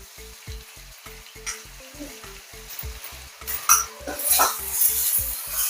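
Clams frying with turmeric and chili powder in a pan, a steady close sizzle with regular rhythmic pulsing and a few brighter crackles and utensil scrapes near the end.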